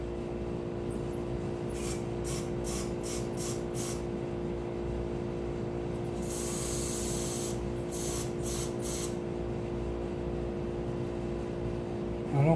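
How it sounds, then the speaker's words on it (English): Several short hissing bursts from an aerosol can of clear lacquer sprayed into a paint lid, then a longer continuous spray and a few more quick bursts, over a steady low hum. "spray some of this lacquer, this clear lacquer, into this paint lid here."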